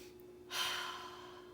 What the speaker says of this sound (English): if you take a deep breath in